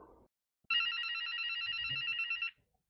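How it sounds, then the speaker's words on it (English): A telephone rings in one long continuous electronic trill lasting about two seconds, loud and close, with a brief muffled bit of noise before it. "Fucking phone."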